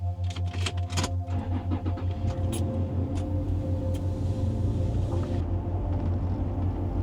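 Close inside a car heading to a beach, the engine turns over with a rhythmic pulsing, then settles into a steady, droning run, with no talking.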